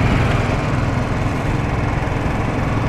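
A Royal Enfield Continental GT café racer's 535cc single-cylinder engine runs with a loud, steady, rough drone that stays constant and close throughout.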